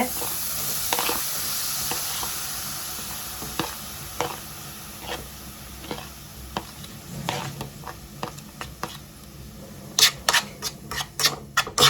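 Paneer pieces fry in melted butter in a pan, a steady close sizzle broken by scraping stirs and a burst of sharp spatula clicks near the end.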